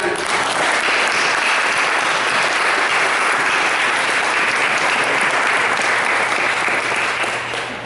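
Sustained applause from an audience at a poetry laureate ceremony in Houston, a dense, steady wash of many hands clapping that carries loud and continuous for about eight seconds before easing slightly at the end.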